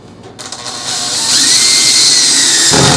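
A power drill driving screws into pallet wood whirs up from a brief start into a steady, loud high-pitched whine that holds, then drops into a lower grinding strain near the end.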